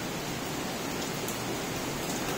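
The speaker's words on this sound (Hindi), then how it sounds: "it's continuously raining so heavily." Heavy rain pours steadily at a resort near Mumbai and Pune, a dense, even wash of hiss with no letup across the whole stretch.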